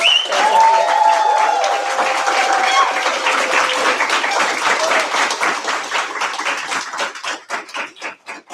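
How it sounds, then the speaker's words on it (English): Audience applauding mentors at a livestreamed fellowship event, a full round of clapping under a brief bit of talk at the start, thinning into scattered individual claps before fading out. "another round of applause for our mentors"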